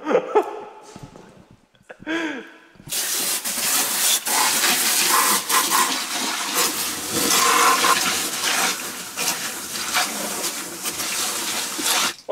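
Floor scrubber dumping dirty water into a floor drain, a loud, steady rushing and gurgling pour that begins abruptly and continues close up, after a few brief noises and breaths at the start.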